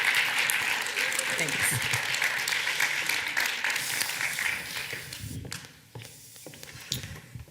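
Audience applause and clapping fill the room, loud and steady at first, then thinning and fading over several seconds, with a speaker's voice talking over the end.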